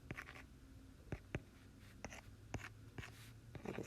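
A calculus derivative formula is written out by hand, and a pen or pencil makes a series of short, close scratching strokes at an irregular pace against a quiet background.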